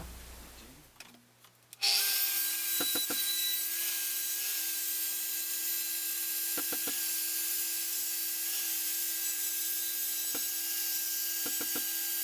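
A jigsaw cuts through an aged oak slab, starting abruptly after a few handling noises and then running as a loud, continuous buzzing saw, with a few brief clicks and knocks breaking through the steady cutting noise.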